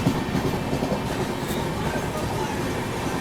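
A Humsafar Express passenger train on the New Delhi–Prayagraj route runs at speed on rails, giving a loud, steady rumble with rapid clickety-clack of wheels over joints throughout, heard close from on board.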